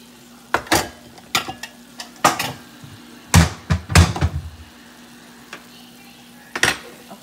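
Dishes and a bowl clatter in a kitchen as food is plated up for Sunday dinner, with several sharp knocks and scrapes in irregular bursts, close and fairly loud, a brief louder cluster in the middle.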